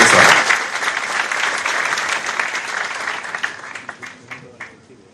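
An audience at a government scheme relaunch event claps loudly to welcome the chief minister, a dense burst of applause that gradually thins into scattered claps.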